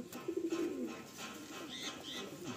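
A female Madrasi pigeon coos softly in a short low burble near the start, with faint rustling and background noise continuing afterward.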